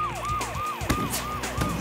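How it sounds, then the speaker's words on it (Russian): Animated cartoon siren switched on: a loud, rapid wailing siren sweeping down in repeated cycles, about six in under two seconds, with faint thumps beneath. "Включить сирену!"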